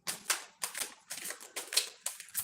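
Tarot cards shuffled by hand, five quick riffling bursts in a steady rhythm, close and crisp, with no talking.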